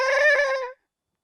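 A person mimics a goat's bleat with a short, quavering nasal call of under a second, close and clear, ending abruptly into silence.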